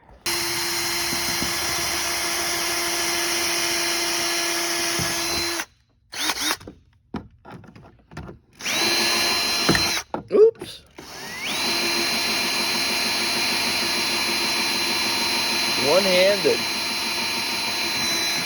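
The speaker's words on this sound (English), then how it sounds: "drill a hole in the back of the panel" A power drill whines in bursts, stopping and starting several times while drilling a hole in the back of a race car panel, with a brief spoken remark between runs.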